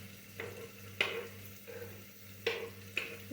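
Cauliflower pieces stir and fry in a hot pan with onion, a soft steady sizzle broken by several sharp scrapes and knocks of the spoon, close and fairly quiet.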